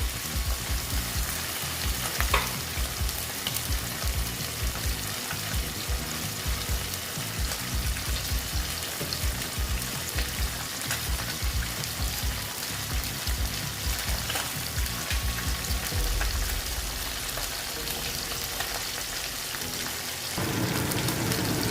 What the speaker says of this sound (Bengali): পাঁচটা দিয়ে দিলাম এই পাঁচটা মাছ আগে আমি ভেজে নিচ্ছি